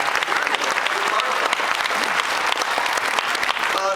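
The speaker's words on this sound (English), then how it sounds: "Yeah, clap for that. Clap for that." A Comic Con 2010 panel audience applauds steadily and loudly throughout, a dense sustained clapping from a large crowd with no pause.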